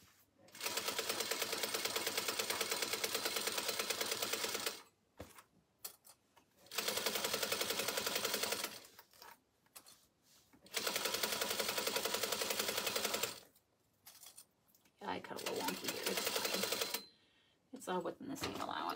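Sewing machine stitching across the bottom seam of a drawstring backpack, running in four steady whirring bursts of a few seconds each, close and clear, with short pauses between them.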